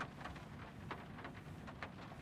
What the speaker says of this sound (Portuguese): Barulhinho de chuva.